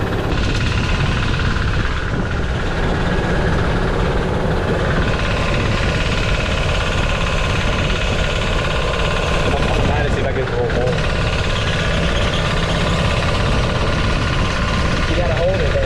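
A diesel-powered hybrid golf kart engine runs steadily and loudly from start to finish, a continuous rough drone with a brief dip in the middle, while people talk over it.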